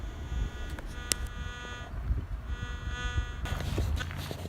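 A White's GMT VLF metal detector sounds off over a rock thought to hold gold: a steady electronic tone with a harmonic buzz that shifts in pitch partway through, heard up close with light handling noise.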